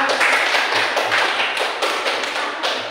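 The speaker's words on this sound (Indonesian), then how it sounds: "beri tepuk tangan untuk kelompok 3" Classroom audience clapping for student group 3 after its presentation, loud, dense, sustained applause from many hands without pause.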